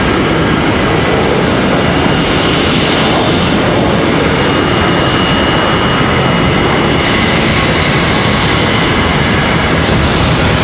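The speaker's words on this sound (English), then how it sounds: "This A320 is going to come in to this taxiway." Airbus A320 jet on the taxiway at Charlotte Douglas airport, a loud continuous engine roar with broadband whine that stays steady throughout, heard close without talk.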